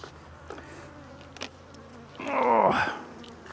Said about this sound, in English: this hive is nowhere near as busy as the previous one